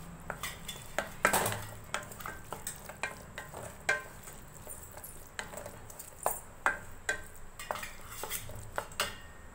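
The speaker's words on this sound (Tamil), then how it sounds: "இதை நல்லா மிக்ஸ் பண்ணிக்கலாம்" Irregular metallic scrapes and clinks of a spoon stirring a potato filling for poli in a pan, close by, over a faint sizzle.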